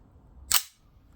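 A Cybergun Desert Eagle .50 AE replica CO2 BB air pistol fires a single shot with full blowback. The crack is sharp, snappy and close, and fades fast into quiet, with no voices.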